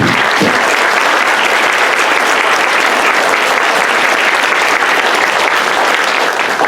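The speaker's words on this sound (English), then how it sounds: "I want a round of applause for those who preceded us." Audience at a volunteer appreciation breakfast applauding loudly, dense sustained clapping from a large crowd filling the room continuously without pause.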